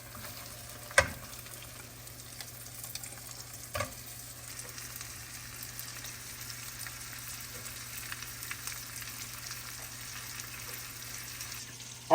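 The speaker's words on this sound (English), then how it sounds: "we're going to go ahead and fry it on both sides now" Quiet, steady sizzling of chicken frying in oil and butter, with a couple of sharp clacks early on and soft crackles throughout over a faint hum.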